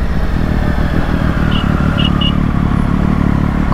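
A Triumph Street Triple motorcycle being ridden while vibrating heavily, its engine droning in a loud, steady, close roar throughout, with rattling mixed into the rumble.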